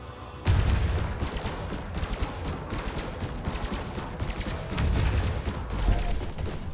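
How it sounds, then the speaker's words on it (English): Spaceship weapons in the video game Elite Dangerous firing at a target: a dense, continuous rattle of rapid shots with heavy low thumps, loud and sustained, swelling again near the end, with no talking. "Let me shoot you."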